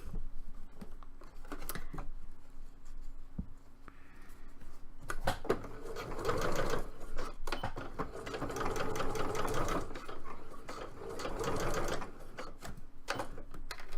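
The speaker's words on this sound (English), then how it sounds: "So now I'm just going to start sewing." A sewing machine stitching a cosplay belt or bag, running in long whirring bursts with short pauses and handling clatter between them, close and fairly steady with no talking.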